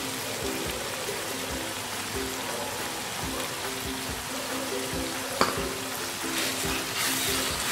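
Minced meat and potato curry frying in a pan, a continuous close sizzle with scraping stir strokes recurring at a loose rhythm and one sharp knock partway through; nobody speaks.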